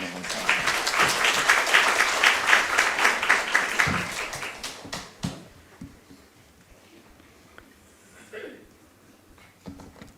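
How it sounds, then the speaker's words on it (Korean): Worshippers at a Sunday church service give a big welcoming applause for a visiting pastor, a full, loud burst of many clapping hands for about five seconds before it trails off into quieter room sounds and scattered talk. "우리 큰 박수로 환영할까요?"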